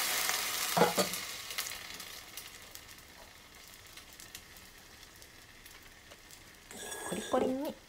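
Cauliflower stir-steaming in oil with a splash of water, a soft steady sizzle with a louder burst of hissing and clatter near the start and again toward the end.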